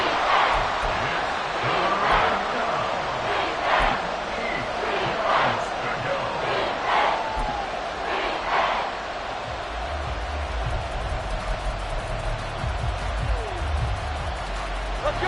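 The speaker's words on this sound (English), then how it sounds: "the crowd getting into it as we come up on a big third down" Football stadium crowd at a playoff game roars and chants in a dense, sustained wall of noise, with rhythmic pulses of cheering and a low rumble building near the end.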